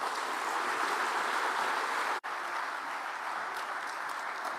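A crowd applauds steadily throughout after a speech by US President Joe Biden in Kenya, a dense wash of clapping with one brief drop near the middle.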